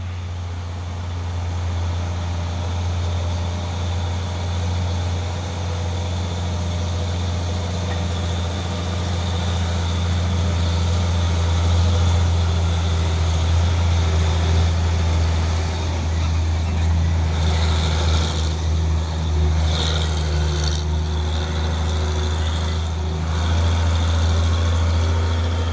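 Trailer trucks loaded with ground piles grind up the Bukit Kodok hill climb, a steady deep engine drone that holds loud and continuous throughout with no talk.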